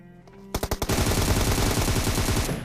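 Automatic gunfire in the battle royale game PUBG: a few spaced shots, then a loud continuous rapid burst lasting about two seconds, close and alone without talk.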